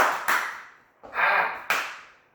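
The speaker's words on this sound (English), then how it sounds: "Now I'm going to go to see how many claps I can get in my one toss." A person clapping their hands quickly while a single ball is tossed in the air: a few sharp, close claps in quick bursts, fairly quiet, with no talk.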